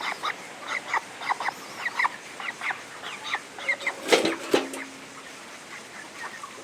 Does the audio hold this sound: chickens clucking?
yes